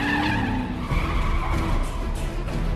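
A sports car races and skids through a movie car chase, tires squealing over a dense, continuous roar of engine and road noise that stays loud and close the whole time.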